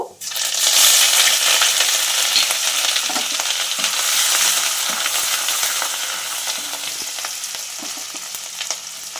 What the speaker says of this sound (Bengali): এইবারে ওই তেলেতে আমি চিলি ফ্লেক্সটা দিয়ে দেব, আদা বাটাটা দিয়ে দেব